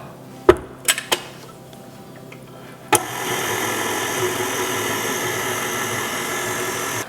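Electric mixer beating cookie dough for shaker cookies: a few sharp knocks and clatters at first, then a steady motor whir that starts abruptly and runs on evenly at close range.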